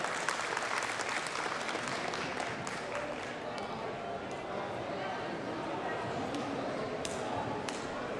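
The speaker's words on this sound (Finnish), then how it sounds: "aplodit paikallaan" Applause at the Tiedon ja taidon metsä forestry event at Messukeskus Helsinki, moderately loud, dense and continuous clapping for several seconds, with a few sharp clacks standing out toward the end.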